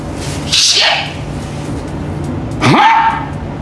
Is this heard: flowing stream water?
no